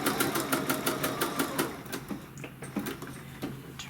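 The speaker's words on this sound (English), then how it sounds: "I'm just going to keep the edges right up against that edge stitch foot" A sewing machine stitching a walnut-shell-filled pin cushion with an edge stitch foot, its needle running in a fast steady mechanical rhythm that slows into a few separate stitches, close and moderately loud.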